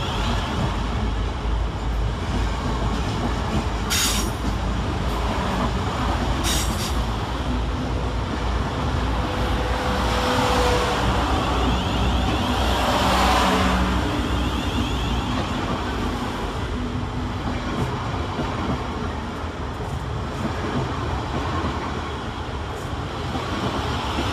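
Trains moving through Clapham Junction railway station, a continuous low rumble of rolling stock with brief high squeals and hissing bursts over steady rail noise, fairly distant and even throughout.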